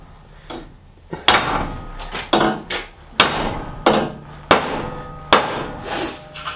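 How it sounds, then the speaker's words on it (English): Steel track pins on a Nashorn Sd.Kfz.164 tank being driven in with a hammer held at about a 45-degree angle: a series of sharp, ringing metallic blows in uneven groups, close and loud, with no talk. "I'm hammering like about a 45 degree angle"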